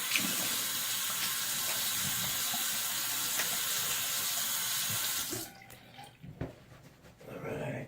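Water from a bathroom tap runs loudly and steadily while a double-edge safety razor is rinsed during a shave, then cuts off, leaving a few faint drips and small clinks before the flow briefly resumes.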